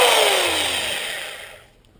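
A hammer drill with a bit fitted whirs loudly at full speed, then winds down and fades to quiet within two seconds.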